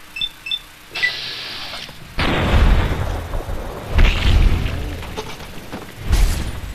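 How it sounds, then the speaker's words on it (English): A power-armored soldier blowing apart after being shot in Fallout: New Vegas: a sharp mechanical clink, then a loud booming burst with crackling debris, followed by two more heavy blasts. "If you shoot people wearing power armor in the back, they blow up."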